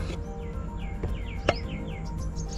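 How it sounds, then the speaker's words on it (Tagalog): Small birds chirp and trill repeatedly in quick descending calls at Al Rafisah Dam in Khorfakkan, Sharjah, heard fairly near over a soft natural background with a single sharp click midway. "Napakatahimik ng mga huni ng ibon."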